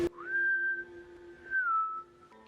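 A clear, steady whistle rises to a sustained tone, dips briefly, then holds and falls away, fairly quiet against a hushed room.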